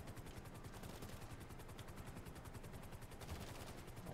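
Rapid automatic gunfire in Grand Theft Auto V Online rattles on continuously in fast regular bursts, loud and close, with no talking over it.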